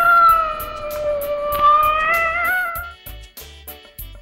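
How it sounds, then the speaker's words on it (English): A pet cat meows in a long drawn-out, tonal call close by, then falls silent over faint background clicks and shuffling. "Cats talk by meowing."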